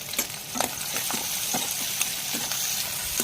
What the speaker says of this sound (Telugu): ఆనియన్ పచ్చిమిర్చి వేసుకుందాం. ఇంకా కొంచెం కరివేపాకు